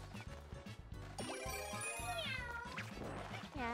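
A cartoon cat meow from the cat suit power-up in Super Mario 3D World rises over busy game music and effects, with repeated meows during lively platforming play.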